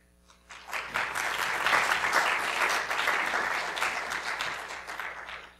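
An audience bursts into applause at a forum, clapping rising quickly from quiet to a full, steady patter that holds and then tapers off at the end.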